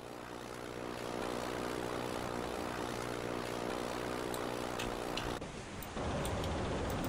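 Propeller aircraft droning steadily overhead in the submarine game Silent Hunter 5, a continuous loud engine hum with layered harmonic tones that shifts and roughens near the end as it passes.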